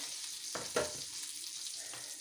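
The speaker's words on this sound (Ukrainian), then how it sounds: "жарю ж я їх під кришечкою, бачите, щоб потім їх не пропарювати" Fish and zucchini cutlets frying in oil in a covered pan, a steady soft sizzle with a brief louder crackle near the middle, close and continuous with no talking.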